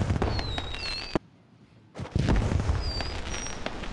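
A Smart Bomb explosion effect in Rainbow Six Siege, a loud crackling, fizzing blast that cuts off into a near-silent gap, then returns with dense popping and whistling tones.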